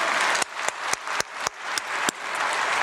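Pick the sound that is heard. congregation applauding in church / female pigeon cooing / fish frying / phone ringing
congregation applauding in church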